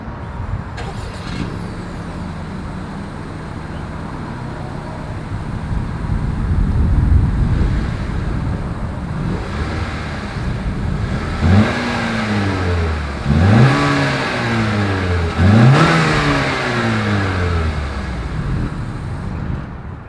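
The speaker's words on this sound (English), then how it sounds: "As always, here is that exhaust clip." A 2021 Honda Accord exhaust idles with a low rumble, then revs several times in quick succession, each rise and fall loud and close, with some wind noise.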